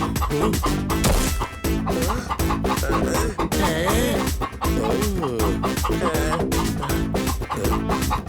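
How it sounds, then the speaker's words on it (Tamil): Cartoon chicken clucking among busy, loud background music and sound effects in a Tamil children's animated episode, the bird sounds brief and partly buried under the dense score. "கோழி"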